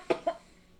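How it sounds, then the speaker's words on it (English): Two quick coughs from someone who has just taken a bite of food. The first burst is sharper, and a quiet pause follows. "I coughed just as I took a bite"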